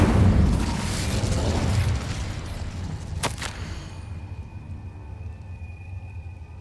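An Incendio fire spell is cast in Hogwarts Legacy on PS5, a loud booming burst at the start that decays into a rumbling tail, with a sharp crack midway and a faint steady tone after.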